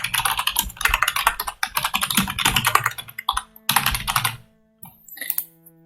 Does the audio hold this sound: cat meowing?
no